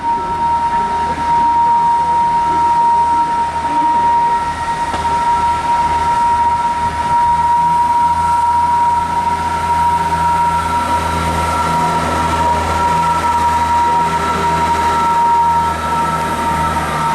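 A Class 165 or 166 diesel multiple unit with Perkins engines rumbles along steadily, a continuous low engine drone with a sustained tonal whine above it, loud and close throughout with no talking.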